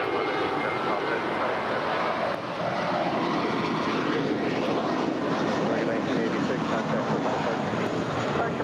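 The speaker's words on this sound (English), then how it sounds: "We got the Emirates A380 now making her way." An Emirates Airbus A380 airliner taxiing at LAX produces a constant loud jet engine roar that fills the scene evenly throughout, with faint wind noise mixed in.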